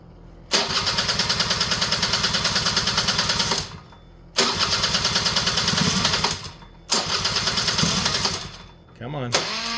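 A Honda EZ90 Cub motorcycle engine cranking to start: three loud, close, sustained bursts of rapid rhythmic chugging, separated by short pauses, with no talking over it.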